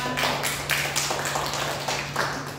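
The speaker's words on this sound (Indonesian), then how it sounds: "Wah, tepuk tangan." Applause from students in a high school classroom during a microteaching geography lesson: a steady, dense patter of many hands clapping at close range, lasting a few seconds with slight swells.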